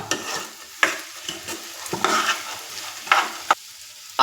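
Mung bean salad mixture stirred in a pan, with a spoon scraping and clacking in irregular strokes and a few sharp knocks against the pan, close and fairly quiet.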